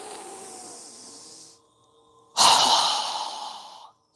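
A soft breath trails off and then comes a strong, forceful exhale through the mouth during yoga breathing, a loud rushing whoosh that slowly fades. It is close and clear, with no speech.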